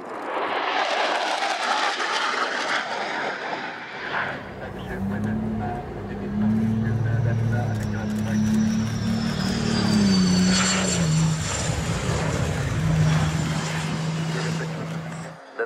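An aircraft making a high-speed pass at the Royal International Air Tattoo at Fairford, a loud rushing roar with shifting engine tones sweeping past, under a commentator's voice.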